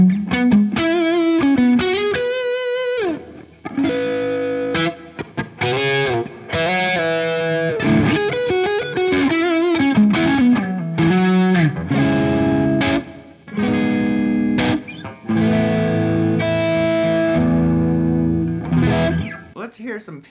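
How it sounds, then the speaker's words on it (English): Electric guitar played on the neck pickup through a Friedman BE100 Deluxe amp, distorted with chorus-like effects and reverb, loud and close with sustained notes, quick riffs, bends and short pauses between phrases. "Play some neck pickup tones"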